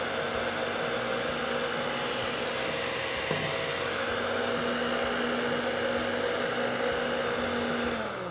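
An electric stand mixer beating cake batter whirs steadily and loudly for several seconds, a constant motor drone with a slight pitch shift midway, then fades at the end.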